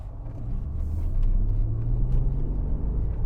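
Low engine rumble swells as a Volkswagen Golf V6 4Motion pulls away in first gear onto a main road, heard from inside the car, steady and moderately loud with no talking.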